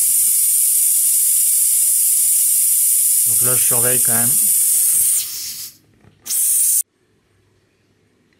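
A purge valve on a 2000-litre all-electric domestic hot water tank hisses loudly and steadily while it bleeds, with someone talking briefly over it. The hiss sputters and fades, surges again, then stops abruptly into near silence.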